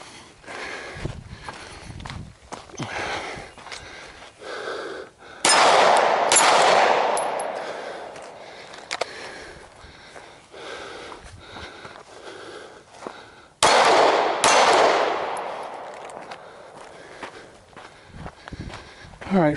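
Glock 17 pistol firing on an outdoor course with steel targets: two loud, sharp shots with ringing decay, separated by shuffling footsteps and movement, with a person speaking in between.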